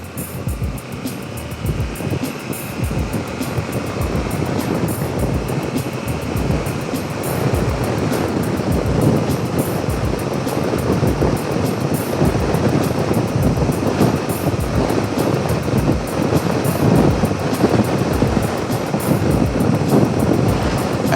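Wind roars steadily past a Yamaha Tenere 700 carrying moto camping luggage at 100 km/h on a motorway, loud and unbroken, with the engine's drone faint beneath the buffeting.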